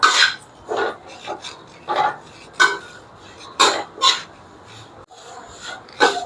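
Sun-dried drumstick leaves sautéed in a pan give repeated raspy scrapes and dry rustles as a spatula stirs them against the metal, in short uneven strokes about every half second to second, close and fairly loud.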